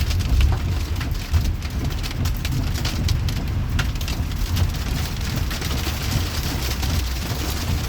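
A heavy downpour with hail drums steadily and loudly on surfaces, forming a dense, unbroken roar with a low rumbling undertone.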